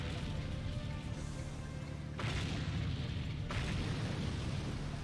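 Explosions in the video game Seek and Destroy sound as dull, rumbling booms and crashes, with a sharp burst about midway followed by continued low-end rumble at steady volume.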